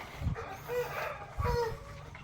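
A brooding Rhode Island hen with her chicks makes clucking calls close by, with two bursts of low clucks among higher chick peeps and chatter, over faint background noise.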